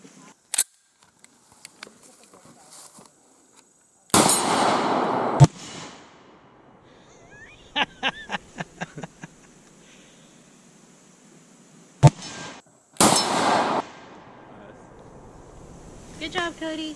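A Desert Eagle pistol chambered in .41 Magnum fires outdoors, two loud sharp reports about eight seconds apart, with bursts of wind noise, small clicks and handling sounds between them.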